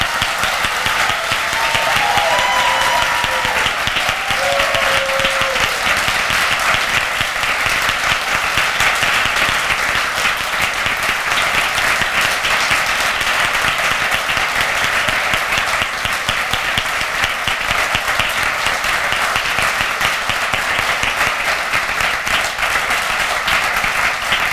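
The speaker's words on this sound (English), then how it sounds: "we offer our testimony and acclamation with loud applause" A congregation's loud, sustained applause at an ordination service, dense clapping that fills the room continuously without letting up.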